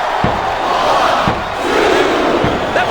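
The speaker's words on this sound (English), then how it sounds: "I'm not sure I agree with what the crowd is chanting, JR, but I guess it's their right." Arena crowd in the WWE SmackDown vs Raw 2007 wrestling video game, a loud sustained roar of chanting voices with a few sharp low thumps from the ring, steady and dense throughout.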